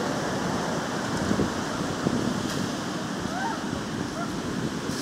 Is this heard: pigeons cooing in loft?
no